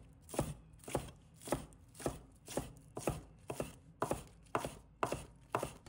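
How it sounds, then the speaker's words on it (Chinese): Knife chopping green onions on a cutting board, about eleven evenly spaced, crisp thuds in a steady, unhurried rhythm, close and alone. "再准备小葱，把它切成葱花"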